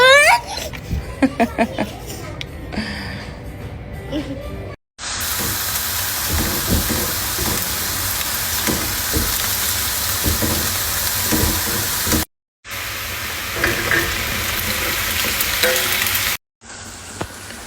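Meat and carrots frying in a home pan give a loud, steady sizzle with broad hiss and occasional stirring clatter, broken by a few abrupt gaps; voices and handling noise briefly crowd the opening moments.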